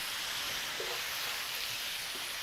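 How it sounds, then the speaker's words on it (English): Steady frying sizzle of asparagus in a hot pan, a constant bright hiss with faint crackles, heard alone with no voices. "things are sizzling really well"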